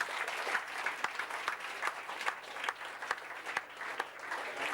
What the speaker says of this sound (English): So I'd like to give you a round of applause anyway for Lawrence Bird